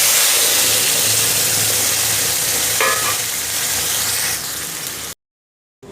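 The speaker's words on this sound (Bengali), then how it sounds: "কড়াইতে সর্ষের তেল দিয়ে গরম হয়ে গেলে রসুন, কালো জিরে, যেটা পেস্ট করলাম পটল আর ঝিঙে," Garlic, nigella seeds and a paste of pointed gourd and ridge gourd fry in hot mustard oil in a kadai, giving a loud, steady sizzle with stirring that cuts off abruptly near the end.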